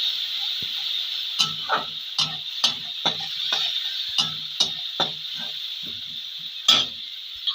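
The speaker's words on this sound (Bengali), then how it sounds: "আরও আমি নেড়ে দেবো" Fish curry with chili powder being stirred in a pan, a series of distinct scraping knocks in an irregular rhythm over a steady background hiss.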